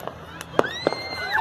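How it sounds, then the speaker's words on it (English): Fireworks at a Fourth of July celebration go off in a few sharp bursts at close range, with whistling trails rising between them and people's voices in the background. "the fireworks, the explosions"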